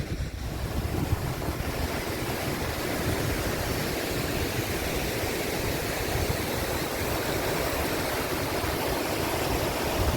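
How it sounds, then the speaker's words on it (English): Thornton Falls, a waterfall at the far end of Ingleton Falls, roars as a steady, loud broadband rush of falling water that continues unbroken from start to finish, with no voices. "that waterfall was called Thornton Falls"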